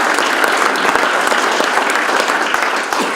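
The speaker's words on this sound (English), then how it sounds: "So let's have a round of applause for them." An audience at a city's State of the City address breaks into close, loud, steady applause that fills the whole stretch, tapering slightly at the very end.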